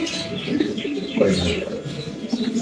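Pigeons at a fancy pigeon farm coo close by in soft, repeated throaty bursts, with light chirps mixed in across the few seconds.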